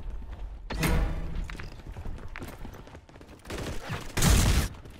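A UMP-style gun is fired in Call of Duty: Modern Warfare, giving loud bursts of automatic fire. Thuds and mechanical clatter sit between the bursts, and a heavy volley comes near the end, with no talk over it.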